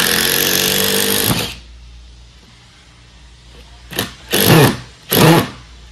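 A power drill drives a screw into wood without a pilot hole in one long, loud burst, followed after a quiet pause by three short, sharp bursts as screws are driven or backed out.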